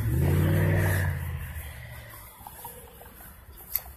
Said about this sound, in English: A car's coming.